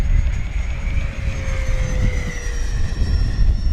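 An FMS Super Scorpion 70mm EDF RC jet flies past, its ducted fan giving a loud, steady rushing whine with a sustained tone that slowly drops in pitch, heard alone.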